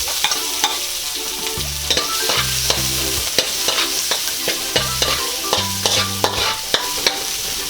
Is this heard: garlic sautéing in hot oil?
yes